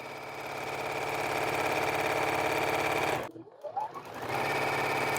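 A sewing machine runs steadily while stitching quilt pieces, a fast even mechanical whir that cuts out briefly for about a second before starting up again, close and fairly loud.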